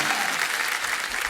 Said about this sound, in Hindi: तालियां बनती हैं इनकी फिटनेस पे